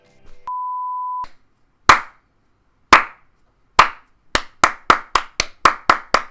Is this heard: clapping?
yes